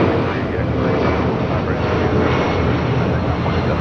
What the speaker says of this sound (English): Next takeoff at Delta Airlines Flight 631 heading to Mexico City in the